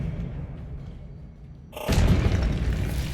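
A spell blast from a Harry Potter video game bursts in as one loud, booming whoosh partway through and then rolls on as a dense, noisy roar.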